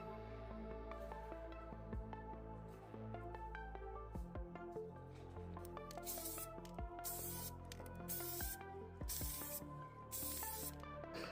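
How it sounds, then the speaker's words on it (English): Primer spray-painted onto a custom M14 gas blowback airsoft rifle, with hissing aerosol bursts of several seconds each under steady background music. "That's just me applying the primer coat."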